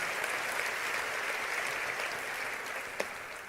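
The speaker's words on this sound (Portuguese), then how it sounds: "Você pode aplaudir o Senhor por isso" A church congregation applauds during a worship service, a steady wash of clapping from many hands that carries on evenly for several seconds with one sharper clap near the end.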